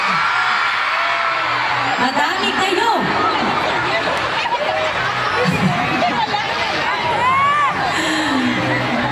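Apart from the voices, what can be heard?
crowd shouting and cheering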